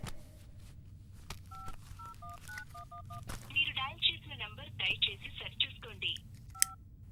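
Touch-tone phone keys are pressed one after another in paired beeps, followed by a rapid burst of dialing tones, over low room noise with speech nearby.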